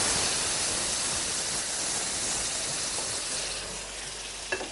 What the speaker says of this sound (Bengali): আমি তাহলে চাটনিটা ঢেলে দিই।